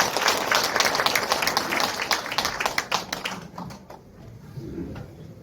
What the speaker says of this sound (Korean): 네, 여러분 박수 한번 주시죠.